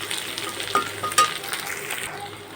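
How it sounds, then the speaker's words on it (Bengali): Egg and onion frying together with a little turmeric in a pan, giving a steady close sizzle with brief scraping stir strokes near the middle and end. "আমার ডিমটা ভাজা হয়ে গেছে, পেঁয়াজটাও ভাজা হয়ে গেছে"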